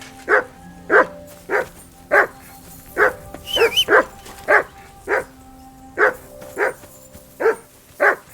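Repeated loud barks from a dog in Kingdom Come: Deliverance II, evenly spaced woofs nearby with a brief yelp midway and a faint background drone.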